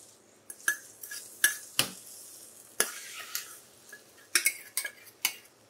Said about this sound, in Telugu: ఇప్పుడు ఈ తాలింపు అన్నది ఇందులో వేసేసుకుందాం.